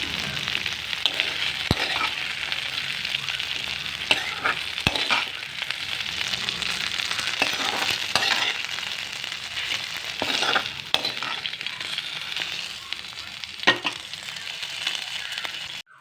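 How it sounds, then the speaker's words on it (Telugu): Okra frying in oil in a pan, giving a steady, close sizzle that runs throughout, with occasional light clinks and stirring scrapes of a utensil against the pan. "నూనెలో వేయించుతాం కాబట్టి బెండకాయలు అయితే వేగిపోయినవి"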